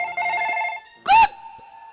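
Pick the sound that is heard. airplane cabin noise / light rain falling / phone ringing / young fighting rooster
phone ringing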